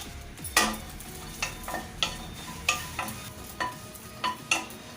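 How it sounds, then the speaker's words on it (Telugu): Green chillies frying in a little oil in a pan, a soft sizzle broken by repeated scraping and stirring clicks about once a second, fairly quiet and close, with no talking. "ఇప్పుడు పచ్చిమిరపకాయలు వేయించుకుంటున్నాను. కొద్దిగా నూనె వేసి మిరపకాయలు వేయించుకుంటున్నాను."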